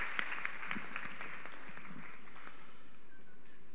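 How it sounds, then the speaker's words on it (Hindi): Applause from an audience at a stage event, a soft, somewhat distant patter of clapping that stays fairly quiet and thins toward the end, with no voices over it. "जोरदार तालियों के साथ एक बार फिर से मंच पर अभिनंदन।"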